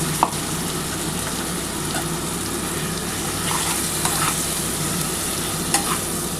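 A ground spice paste of cardamom, cloves and cinnamon sizzling loudly as a little water is poured in and stirred, for a vegetarian potato, papaya and soybean curry. Continuous close frying hiss with occasional utensil clicks, no voices.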